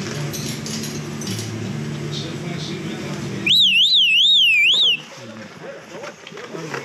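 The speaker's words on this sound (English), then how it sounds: "Sounds like a car alarm." Warbling electronic siren resembling a car alarm, heard outdoors during a tour in Corinth, Greece; a loud rising-and-falling whistle-like tone sounds for about a second and a half, then cuts off, with voices and ambient noise around it.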